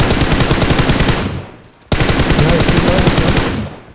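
Video game gunfire during a scrim match: loud, rapid automatic bursts rattle steadily, cutting off briefly midway before another sustained burst resumes, close and dominant.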